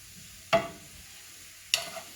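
Vegetables sweating in a pan over medium heat, stirred in two brief scraping strokes over a faint, quiet sizzle.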